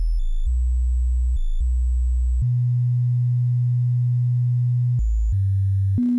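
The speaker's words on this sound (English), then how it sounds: "Now clicking the sine wave and it fills the left scope." Pure, steady Amiga OctaMED synthesizer sine tones, low and humming, changing pitch in held steps with a few short notes in between, no voices.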